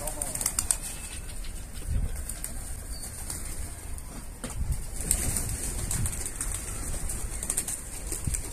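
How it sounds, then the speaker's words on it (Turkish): Wild pigeons come close, their wings flapping and soft cooing heard over a noisy outdoor background, while someone speaks nearby. "Yem sesini duyunca yabozlar da geldi."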